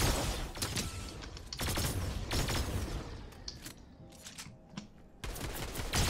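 Rapid bursts of automatic gunfire crackle through a Fortnite match, with dense volleys broken by short gaps, loud and close, and no talking over them.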